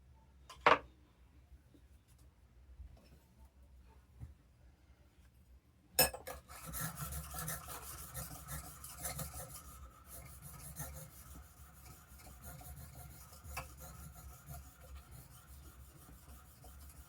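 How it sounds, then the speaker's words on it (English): A block plane iron is rubbed on a soft Arkansas sharpening stone in quiet, steady gritty strokes. A sharp knock comes first, then continuous faint scraping grows louder partway through. "I'm going to move to a soft Arkansas"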